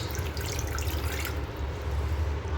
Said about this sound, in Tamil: அதனால் கொஞ்சமாக தண்ணி சேர்த்துக்கோங்க.